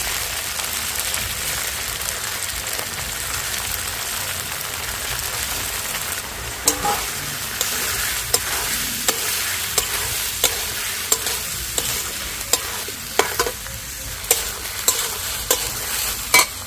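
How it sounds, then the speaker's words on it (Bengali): Drained rice for Bengali bhog khichuri goes into a hot pan and is stirred, producing a constant bright frying hiss with regular spoon scrapes and knocks against the pan, close up. "এবার আমি জল ঝরিয়ে রাখা চালটা দিয়ে দিচ্ছি।"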